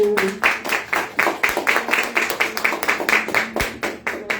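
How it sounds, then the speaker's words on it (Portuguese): A church congregation applauds in a steady rhythmic clap, sharp evenly spaced hand claps repeating about twice per second, moderately close, with faint voices beneath. "Aplauda o Senhor."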